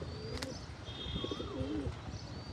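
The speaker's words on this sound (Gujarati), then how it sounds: "આપણું કબૂતર જોવા ઉડે છે ઓલી સાઈડ ક્યાં ઉતરે છે?" Domestic pigeons coo in low, rolling calls in a backyard loft setting, with a brief wing flutter early on and faint chirps over steady background noise; no one speaks.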